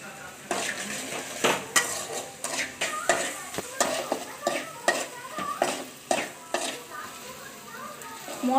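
Spice paste of cumin paste and chopped coriander sautéing in a pan with a spoon scraping and clattering against the metal in an irregular rhythm over a soft sizzle, close and fairly quiet.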